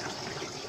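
Water drawn by hand from a well and poured out in a steady close gush, filling a container in a rural bathroom without a tap in Calantas, Rosario, Batangas.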